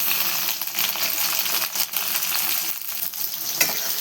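Garlic, red and green chillies and tomato frying in hot oil, giving a close, continuous crackling sizzle dotted with sharp pops and spatters throughout.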